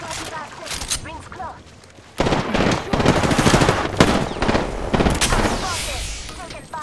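Rapid automatic gunfire bursts from a battle royale shooter match, loud and dense after a quieter opening stretch, with game voice callouts mixed over the shooting.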